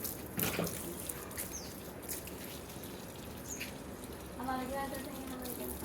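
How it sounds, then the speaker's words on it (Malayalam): Water splashes and trickles as it is poured onto a plant, with quieter stretches between pours and faint voices in the background. "ഇനി അടുത്ത ചെടിയിൽ വെള്ളം ഒഴിക്കും"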